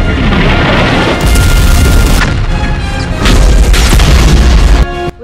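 Heavy explosions in a Lego Star Wars space battle animation boom continuously and loudly, with deep rumbling blasts rolling one into the next for the whole stretch.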